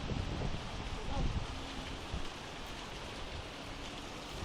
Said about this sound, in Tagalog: Lakas naman ng ulan.